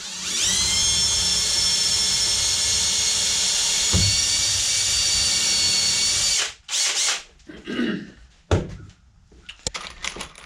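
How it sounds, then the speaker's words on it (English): A power drill pre-drilling wood whines steadily at high speed for several seconds, then stops with a few short bursts and clunks of the tool being handled. "We're going to pre-drill this top one here."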